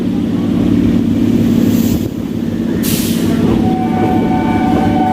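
A local train running between Sealdah and B.B.D. Bag in Kolkata rumbles loudly and steadily along the track, a continuous heavy roar with a short hiss of air partway through.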